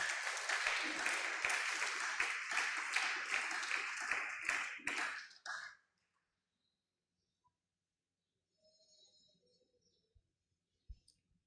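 A church congregation applauds and cheers in worship, with dense, loud rhythmic clapping and voices that stop abruptly about halfway through, leaving near silence with a few faint distant sounds.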